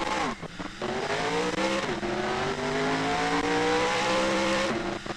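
Simulated race car in NASCAR Racing 2003 with restrictor plates off, engine note rising steadily as it accelerates through the gears, one clear pitch drop at a shift, continuous and close with no talk.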